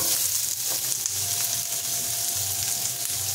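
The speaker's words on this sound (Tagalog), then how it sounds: "Alright, we have to saute. Gigisahin natin with the garlic and onion." Chicken sautéing with garlic and onion in a hot pan, a steady, close crackling sizzle that holds throughout with occasional stirring clatter.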